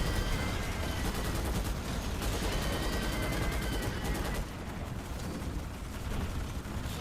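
A rapid-fire gun shooting armor-piercing bullets in Starship Troopers Extermination chatters continuously in a fast rhythmic stream, loud and close, easing slightly toward the end.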